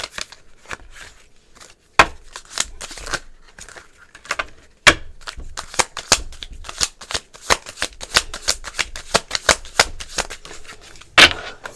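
Tarot cards being shuffled and drawn, a long run of quick, crisp riffling and slapping clicks, close and fairly loud, with sharper snaps as cards are pulled, and no voices.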